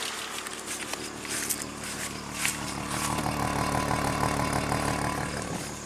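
A Chrysler Crossfire engine runs steadily and fairly loudly, a rough mechanical drone with an uneven, slightly stumbling texture that suggests a possible misfire, heard close and alone.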